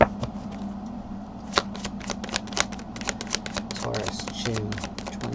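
Tarot oracle cards are shuffled close by, a run of soft rapid flicks and riffles with sharper snaps, under a speaking voice.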